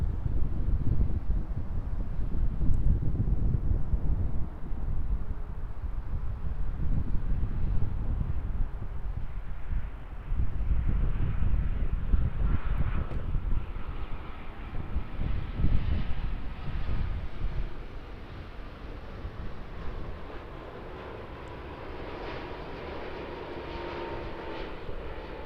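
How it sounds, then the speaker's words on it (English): China Southern passenger jet arriving at Auckland airport, a sustained loud roar of engines with wind noise as the aircraft passes, slowly fading and shifting in pitch over the length of the clip. "China Southern Flight 305 arriving into Auckland."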